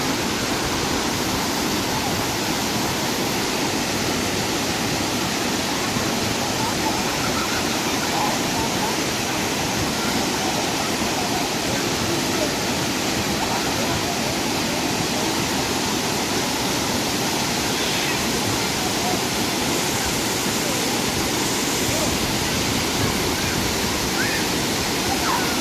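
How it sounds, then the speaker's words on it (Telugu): Athirappilly waterfall pours in a dense, continuous roar of falling water that holds steady and loud the whole time, with no break. "చూసారు కదా ఎలా ఉందో వాటర్ ఫాల్స్"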